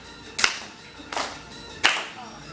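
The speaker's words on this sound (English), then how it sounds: "Let's get a clap." Three sharp, evenly spaced hand claps in a rap song, crisp and distinct with short pauses between them.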